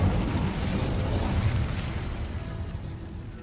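Incendio fire spell cast in Hogwarts Legacy: a loud, dense burst of roaring fiery blast that fills the clip, strongest at first and easing slightly after about a second and a half.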